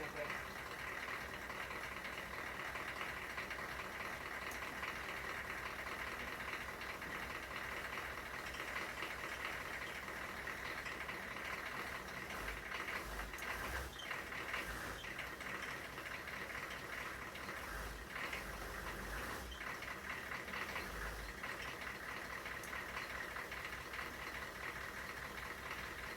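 A wrecked Oldsmobile diesel engine runs at a faint, distant, steady idle, a continuous low rumble without change throughout.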